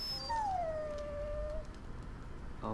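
A dog in the Dragon Age Origins video game lets out a single drawn-out, falling whine lasting over a second over a low steady background hum, then the sound fades to quiet.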